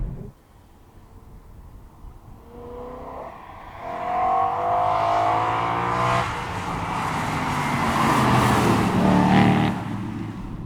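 BMW E92 M3 with a thirsty naturally aspirated engine, heard from outside as it starts low and climbs through a rising rev, then shifts and keeps building into a loud, harmonically rich howl that holds near the end.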